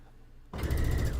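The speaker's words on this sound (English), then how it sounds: "I'm going to sew corner to corner" A sewing machine stitches a quilt binding strip corner to corner at a short stitch length, starting abruptly after a quiet moment and then whirring steadily and close, with no talk.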